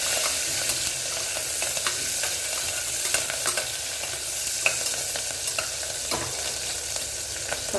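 Green chillies sautéing in hot oil in a pan, a steady close sizzle with scattered crackles and light stirring clicks throughout, loud and unbroken by speech.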